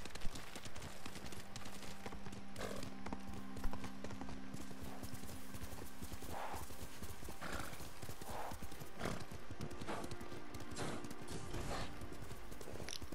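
Rhythmic horse hoof clip-clops on the ground in Ghost of Tsushima, steady and moderately close, with a brief whinny and some background noise.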